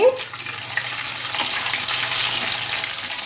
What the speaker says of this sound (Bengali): এইবারে আমি দিয়ে দেব পাঁচ ফোড়ন